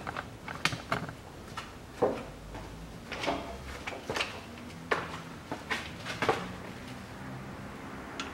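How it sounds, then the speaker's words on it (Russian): A 14 mm socket wrench loosens the front driveshaft bolts on a 2005 Kia Sorento 2.5 during a transfer case swap, giving close, irregular metallic ratchet clicks and clanks with scattered knocks and no speech. "Теперь откручиваю передний кардан."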